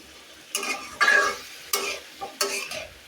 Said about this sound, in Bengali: আমি এখন নাড়াচাড়া করে দিব, উল্টিয়ে দিব এখন।